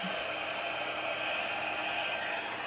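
A craft heat tool blows steadily to dry ink on a painted Christmas card, a constant close whooshing roar like a hair dryer, alone with no talk.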